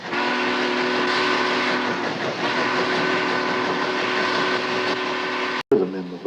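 Union Pacific steam locomotive 8444 sounds a long, sustained whistle over the rumble of the moving train, loud and steady for several seconds before it cuts off abruptly.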